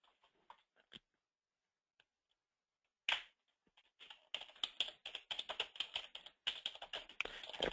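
Computer keyboard keys tapped in quick bursts while a code is typed in, a few isolated clicks at first, then dense, close clicking without talk.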